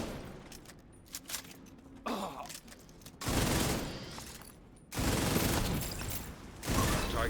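Bursts of video-game turret fire erupt in loud sustained volleys, with mechanical clatter and quieter gaps between the rapid-fire stretches.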